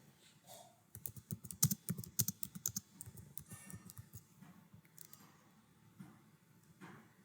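Fingers type on a computer keyboard in a quick burst of close, crisp key clicks, then slow to scattered taps and fade toward quiet.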